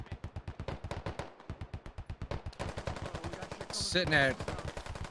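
Rapid gunfire from the Squad combat game, shots fired through a wall during close-quarters fighting, cracking in fast bursts with a short gap, then continuing over busy battle noise and a brief voice.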